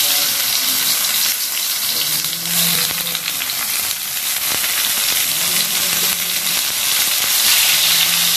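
Sliced brinjal (eggplant) frying in hot oil in a kadai gives a loud, continuous crackling sizzle with occasional sharper pops, heard alone.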